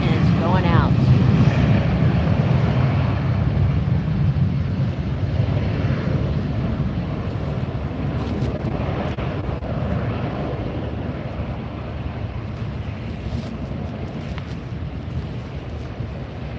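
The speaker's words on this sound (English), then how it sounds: "And that's the 737-800. And it's doing what we call a turn and burn." A Boeing 737-800 at LAX rolls straight through its turn onto the runway and powers up for takeoff, a loud broad jet engine roar that slowly fades with distance, buffeted by wind noise on the microphone.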